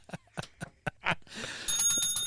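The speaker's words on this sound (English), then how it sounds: "You don't get to ring the bell." A bell on a quiz-style game show is struck several times in quick succession, then rings out in a sustained, bright metallic tone near the microphone with no talk over it.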